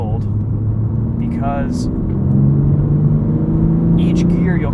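A 2021 BMW M3 Competition's turbocharged engine revs hard above 3,500 RPM from inside the cabin, a steady droning rumble with rising and shifting tones, while someone talks over it.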